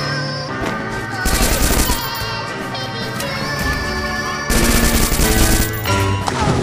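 Rapid bursts of MP40 submachine gun fire from a shooter video game ring out loud and continuous, with repeated strings of shots over busy game sound and music.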